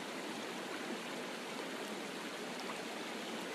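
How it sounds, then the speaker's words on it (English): Gently flowing waterfall water makes a steady, even rushing hiss, continuous and moderately loud throughout with no voices. "you see a beautiful waterfall with gently flowing water"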